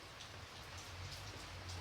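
Steady rain patters on a surface, a dense soft hiss that continues evenly from start to finish with no voice over it.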